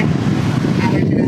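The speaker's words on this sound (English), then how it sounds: "Sorry for the wind." Wind buffeting a microphone outdoors in Yosemite National Park, a loud, steady low rumble that fills the clip without a break.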